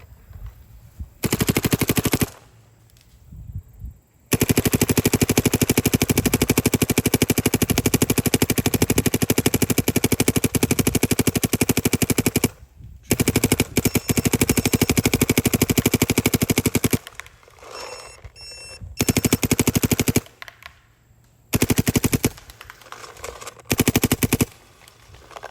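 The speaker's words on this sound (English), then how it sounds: "Cody, that didn't just shoot good, that shot great" A Dye MXR paintball marker fires chilled, bore-sized Dynasty paintballs in long, loud rapid-fire bursts, broken by short pauses and a few brief stops near the end, with no talking.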